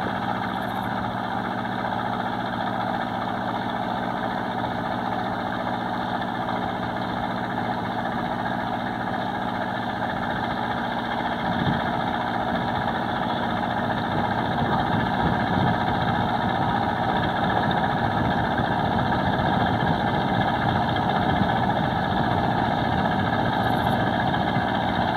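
A truck's diesel engine idles steadily aboard the ferry boat Luiz Graça arriving at Manicoré, Amazonas, a continuous low rumble with constant loudness throughout, mixed with faint ambient ship noise and no voices.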